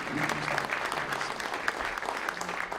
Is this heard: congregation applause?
yes